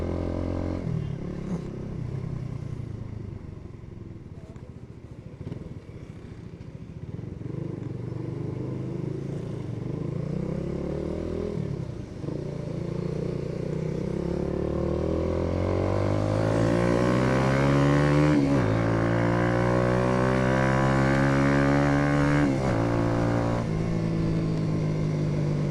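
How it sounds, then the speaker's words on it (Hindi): A 2025 Hi Speed SR 150 Cafe Racer motorcycle is ridden at speed, its loud engine note climbing and falling through repeated revving as it accelerates through the gears, heard close and continuous without speech. "आवाज़ अच्छी है बाइक की इस दफ़ा, थोड़ी सी लाउड है।"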